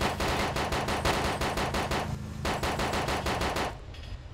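Automatic gunfire rattles from a building in Arma 2 DayZ, long rapid bursts of loud shots separated by a brief pause, then a sharp cutoff into quieter background.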